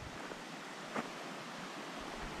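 Bright Angel Creek runs past the campground in Grand Canyon National Park, a steady rushing flow of water with a brief gust of wind noise partway through and no talking.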